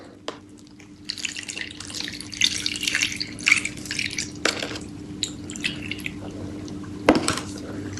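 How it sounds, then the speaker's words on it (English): Water is poured into a clear container holding sand, soil and small rocks, giving an irregular run of splashes, trickles and drips that starts after a brief pause and continues close by, with no voices. "We will then add water"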